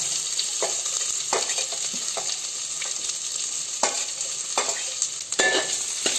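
Onion, green chili and carrot are stir-fried in a pan for vegetable noodles, with a steady close sizzle and repeated scraping stirs of the spatula recurring in a loose rhythm, no talking.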